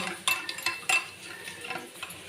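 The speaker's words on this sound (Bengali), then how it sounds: "তারপরে এটাকে আমি ভালোভাবে মিশিয়ে নেব।" Raw jackfruit pieces being mixed with yogurt and Kashmiri chili powder in a bowl, with soft intermittent clinks and scrapes of a utensil against the dish, quiet and close.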